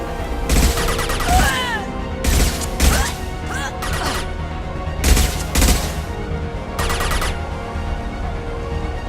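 Bursts of gunfire from the sci-fi shooter Mass Effect 2 come in four or five loud volleys, some sharp and crashing, with a faint electronic whine between shots.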